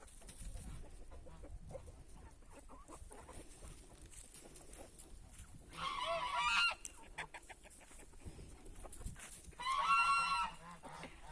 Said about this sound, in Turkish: Kazlar şu anda sinirleniyor.